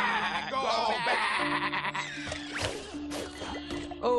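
Sheep bleating in Skylanders Imaginators, several wavering cries over game music and effects, fairly close and prominent.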